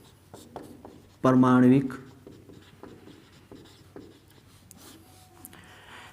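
A pen scratches on paper in short strokes during a Hindi chemistry lesson, with someone speaking clearly over the faint writing.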